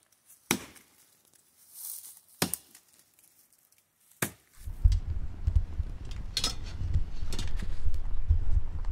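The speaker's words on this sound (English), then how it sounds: "there's not a lot of other women out there chopping with an axe." An axe chopping wood outdoors, three sharp isolated strikes a couple of seconds apart, followed by steady loud rumbling noise that masks fainter later blows.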